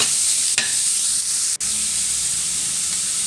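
Minced pork stir-fries in a pan with a continuous close sizzle, broken by two brief sharp clicks of a utensil against the pan.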